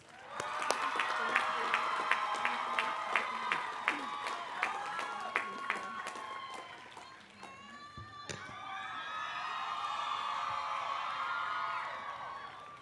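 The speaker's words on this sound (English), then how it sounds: "Let's all offer Sarah a round of applause" Sustained applause from a commencement crowd honoring a graduate, a dense wash of many hands clapping with a few sharp louder claps standing out, fading briefly partway through and then swelling again.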